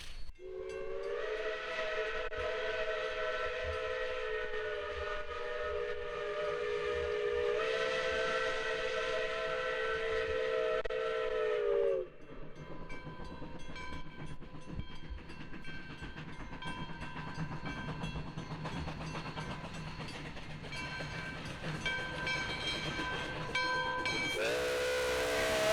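A steam train in Coldwater, Michigan on a hot June day, its long, loud whistle sounding for several seconds. The rumble and clatter of the running train follow, with another whistle blast near the end.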